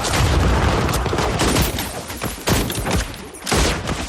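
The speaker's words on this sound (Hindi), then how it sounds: "ये नॉर्मल गन से गोलियां चला रहा है" Dense, loud gunfire in rapid bursts from the film Border 2, overlapping shots and booming blasts, with a few brief pauses before the firing resumes.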